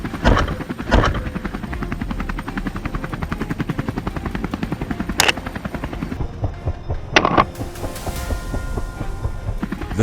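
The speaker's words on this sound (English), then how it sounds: "The helicopter roars to life" A helicopter engine roars steadily for the whole stretch, its rotor chopping in a fast, even pulse, with a few sharp bangs standing out.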